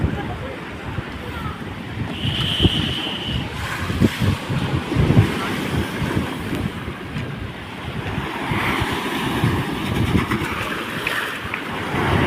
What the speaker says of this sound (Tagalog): Grabe ang alon no.